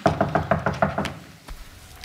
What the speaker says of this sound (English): why is he knocking on the door?